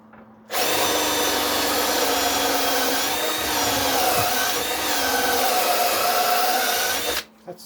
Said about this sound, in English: So let's go ahead and drill this one.